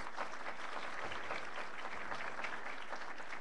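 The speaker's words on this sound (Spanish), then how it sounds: "Le damos un fuerte aplauso al maestro Arturo Sánchez" Steady, dense applause from a seated audience greeting a speaker at a public forum, a continuous wash of many hands clapping at even volume throughout.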